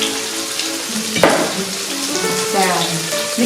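Morning glory and pork stir-fried in a hot pan, a steady close sizzle with a sharp scrape of stirring partway through and continued frying underneath.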